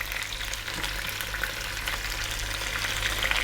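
Spices and herbs, garlic, bay, thyme, salt and black pepper, fry in a pot as the base for a meat broth, giving a steady close sizzle with faint stirring and no talk.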